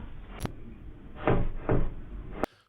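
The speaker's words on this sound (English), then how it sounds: "So there's knocking at the door," Knocking at a door: a few dull, irregular thumps with a sharp bang at the start and end, heard close over a low background hum with no talking.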